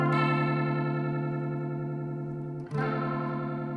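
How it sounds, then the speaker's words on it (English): Electric guitar sustains a chord through a Maestro chorus pedal set to high speed, producing a rapid warbling, choppy tremolo-like wobble before a fresh strum near the end rings out again. "the speed of that chorus wave that we're hearing in there"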